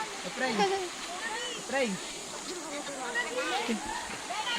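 Steady rushing river water flows over rocks in the background while people talk over it throughout.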